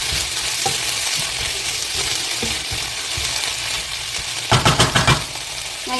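Ground beef for tacos sizzles steadily in a hot pan while a utensil stirs and scrapes through it, with a burst of quick, rhythmic scraping strokes near the end and no voices.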